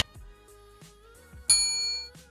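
A notification bell chimes twice in quick succession with bright, clean tones, the second strike louder and left ringing out briefly before fading; no voices.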